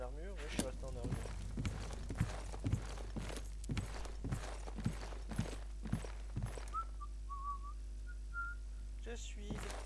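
Horse hooves clip-clop at a steady walking rhythm in Oblivion, fairly close, over a low game hum, with a whistling tone near the end.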